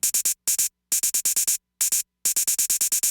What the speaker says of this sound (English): I start in the beginning of the arrangement with hi-hat 1. The pattern sounds like this.